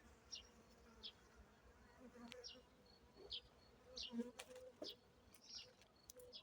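Bees hum faintly outdoors on a late spring day, a soft, continuous buzz with occasional closer passes. Scattered bird chirps can be heard in the background.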